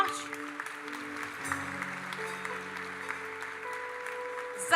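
Church congregation clapping for the Lord during a Portuguese-language sermon; moderate, steady applause over sustained organ or keyboard tones, with a brief louder burst at the end.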